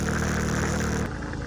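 A 125cc Rusi motorcycle engine labors in first gear up a steep mountain road, a steady close droning hum that shifts abruptly to a lighter, thinner tone partway through.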